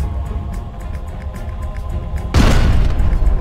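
Mech weapons firing in MechWarrior Online, a low rumbling battle drone that bursts into a loud, broad blast of fire partway through, close and dominant with no talk.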